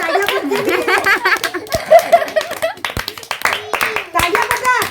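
Clapping at a family birthday celebration for a girl named Riya, a few claps mixed with chuckles and lively talk from adults and children close by.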